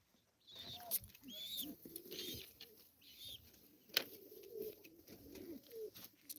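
Pigeons coo in low, soft repeated phrases, with faint rustling and flutter around them; no one speaks.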